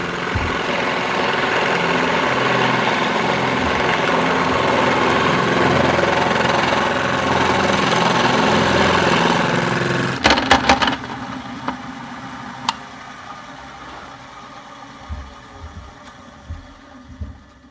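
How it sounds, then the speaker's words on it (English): A power drill bores into a guitar body in a workshop, a loud steady motor whine for about ten seconds that cuts off abruptly, followed by scattered faint clicks and handling knocks. "So I can go ahead and bottom out my drill, and that's as deep as it's going to go"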